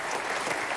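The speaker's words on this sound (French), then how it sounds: "c'est Albert Algou, vous pouvez l'applaudir encore." An audience claps loudly and steadily, a dense wash of applause filling the moment without pause.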